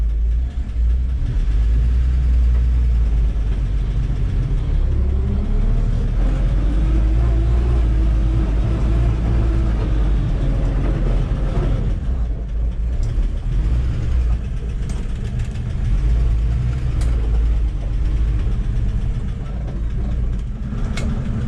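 A car engine hums steadily at close range, rising slightly in effort as the vehicle climbs a ramp out of a yard, with a continuous low rumble throughout.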